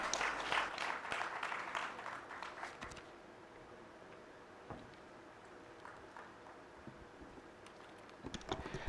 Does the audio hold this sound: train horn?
no